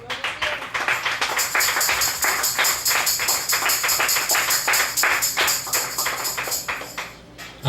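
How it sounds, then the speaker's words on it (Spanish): A church congregation claps along in a steady, even rhythm for nearly eight seconds, the beats close and loud over a bright sustained musical tone, with no voices on top. "Denle un aplauso al Rey."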